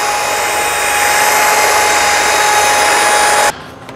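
A polisher runs steadily on a DeLorean DMC-12's stainless steel body, using an interface pad, with a constant, loud whirring hiss that cuts off abruptly near the end, leaving quieter room noise.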